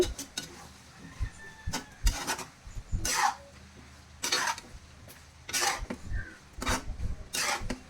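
Beef and small potatoes stirred in a pot while braising in oil, a series of short scraping and rubbing strokes against the pot with quiet gaps between them, close and fairly soft.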